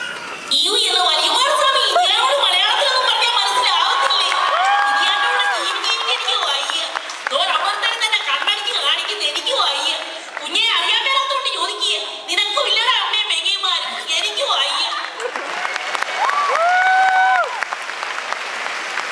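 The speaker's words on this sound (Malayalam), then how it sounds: "ക്ലിയർ ആണെങ്കിലുള്ള കയ്യടി നീ ഇപ്പൊ നോക്കിക്കോ." A stage-show audience claps and cheers in sustained waves, loud and close, with voices and tonal sounds over the clapping throughout and a brief lull before the applause swells again near the end.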